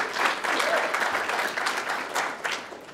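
An audience at a Chicago civic event gives a round of applause for Michelle, who runs the MGFA Challenge: a full, steady patter of many hands clapping, fairly close, with slight surges and sharper claps toward the end.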